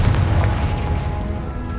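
A Confringo blasting spell explodes in Hogwarts Legacy, a loud, deep boom that rolls on as a sustained low rumble through the whole short moment, with no talking.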